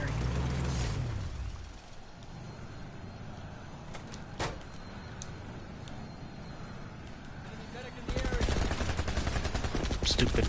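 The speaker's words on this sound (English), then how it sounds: "Oh, that's a shotgun!" Shotgun fire in the sci-fi shooter PlanetSide 2: a few sharp blasts rise over a steady battle din, followed by a dense, loud stretch of rapid firing near the end, with no talk.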